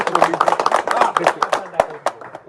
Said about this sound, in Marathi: टाळ्या वाजवा रे सगळे.